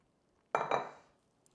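Egg yolk being stirred into a chocolate cake batter in a bowl: a short burst of utensil clinking and scraping against the bowl, two quick strokes close to the microphone, then quiet.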